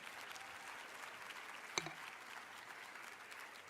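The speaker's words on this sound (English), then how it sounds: "Let's give him another round of applause," Faint, distant applause from a lecture-series audience, a soft continuous patter of many hands with one sharp knock partway through.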